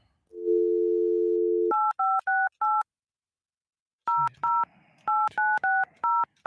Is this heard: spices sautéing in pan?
no